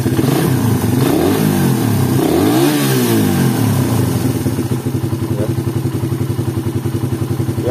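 A motorcycle engine is revved hard nearby, loud and throaty, the pitch sweeping up and down through several throttle blips before settling into a rough, pulsing idle.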